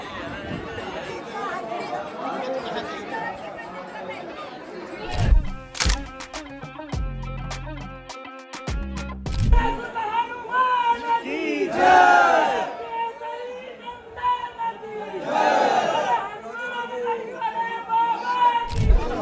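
A dense crowd chatters and calls out around Hanumangarhi temple in Ayodhya, a loud continuous babble of many voices with brief clatter and shouts rising above it midway.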